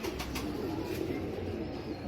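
Purebred pigeons from a bloodline kept by a breeder coo in soft, low, repeated throaty notes close by against a constant background hum.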